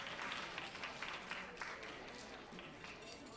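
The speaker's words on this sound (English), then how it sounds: "So if we can have a round of applause for Catherine Torres." Faint, distant applause from the crowd at a library foundation gala, steady clapping with some murmured voices mixed in.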